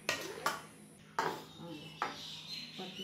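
Clinks of a utensil against a plate as sweet mango pieces are set onto it, a few sharp knocks with pauses between, close and moderately loud.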